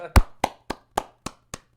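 Six sharp hand claps ring out in an even, slowing sequence, each one distinct and fading, with quiet gaps between and no talking.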